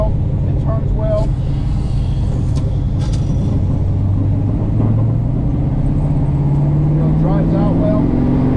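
A 1970 Plymouth Superbird clone with a 528 HEMI engine driving, its deep engine rumble steady and loud from inside the car, the pitch rising slowly as it pulls ahead, while people talk over it.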